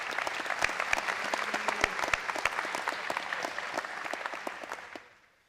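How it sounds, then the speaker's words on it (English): Audience applause fills a school awards ceremony hall, a steady dense clapping with sharp individual claps standing out, holding loud for about five seconds before quickly fading to silence. "can we get a round of applause for Delaney Mull"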